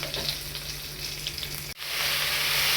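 Chopped tomato sizzles and fries in a hot pan for an Assamese fish eggs curry, giving a steady close hiss that dips briefly and then returns louder.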